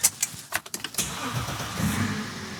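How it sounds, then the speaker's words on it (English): Twin-turbo diesel BMW SUV engine starting up, with a quick burst of cranking pulses before it catches and settles into a throaty, rumbling idle, heard up close. "These turbos sound so good."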